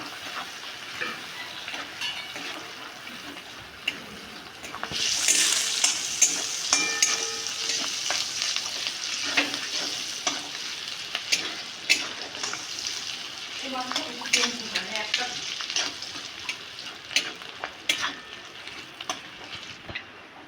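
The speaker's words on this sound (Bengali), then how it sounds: "রসুন, একটু রসুন, পেঁয়াজ, কাঁচা লঙ্কা তাকে ভালো করে ভেজে নিতে হবে।" Garlic, onion and green chilli fry in a pan, a brighter hissing sizzle swelling partway through with stirring scrapes and occasional clatter, close, with faint voices in the background.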